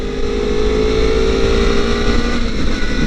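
A Honda CBR 250RR motorcycle with an open, baffle-less aftermarket exhaust holds a loud, steady high-pitched engine note near at hand, a sustained buzzing drone with a slight rise in pitch partway through and no talk over it.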